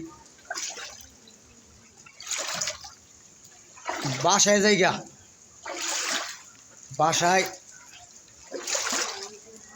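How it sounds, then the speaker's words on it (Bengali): Rainwater after a heavy downpour flowing and splashing in loud bursts that come and go, while someone talks over it. "দেখছেন পানি কত যাইতেছে"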